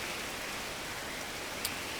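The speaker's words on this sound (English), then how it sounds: "When is this rain gonna end?" Steady rain falling in the prison-building game Prison Architect, a soft, even wash of noise that stays constant throughout, heard alone without voices.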